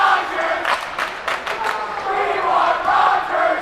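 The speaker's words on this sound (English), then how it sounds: "The crowd chanting, "We want Rogers."" A crowd at a Calvin versus Davenport D1 hockey game chants in loud, rhythmic bursts that echo through the rink, then swells into sustained cheering.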